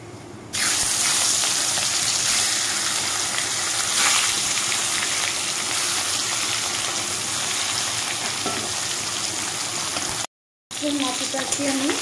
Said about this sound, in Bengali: তেলটা গরম হয়ে গেছে, দিয়ে দিব আমি মাছের মাথাগুলো।